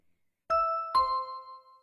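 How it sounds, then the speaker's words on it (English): A two-tone doorbell chime rings ding-dong in an audiobook, a clear bright higher note followed by a lower one that lingers and fades, isolated against silence. "Ding dong! It must be rich Aunt Ruby and his horrible cousin"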